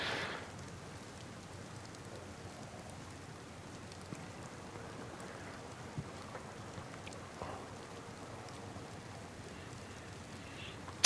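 Rain in the video game DayZ patters steadily and softly on surfaces, a faint continuous hiss with occasional sharper drops and a low rumbling undertone; no voices.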